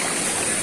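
A clear river flowing in General Nakar, Quezon, heard as a short, loud, continuous rushing wash of water close by.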